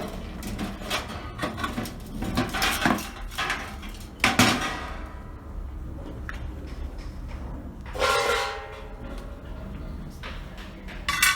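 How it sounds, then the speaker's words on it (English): Old coals from a Dutch oven cookout are tipped into a metal ash bucket, giving a run of clattering, scraping metallic knocks, a louder clunk, then a sliding rattle before things settle. "we're going to get rid of these extra old coals in our ash bucket"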